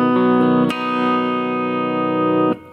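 A Fernandes electric guitar played through a DigiTech RP500 effects unit into a Micro Cube amp with reverb, striking a sustained distorted chord that rings loud and steady before being cut off.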